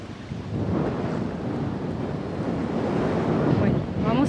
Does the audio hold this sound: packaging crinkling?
no